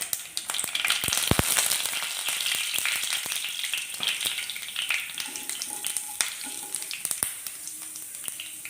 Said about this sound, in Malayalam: ഉലുവയും കടുകൊക്കെ പൊട്ടിയിട്ടുണ്ട്.